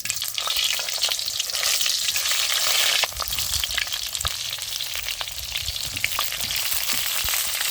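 Mustard seeds and cumin hit hot oil in a pan for stuffed masala brinjal, a loud, dense crackling sizzle with sharp pops that dips briefly, then continues bubbling steadily.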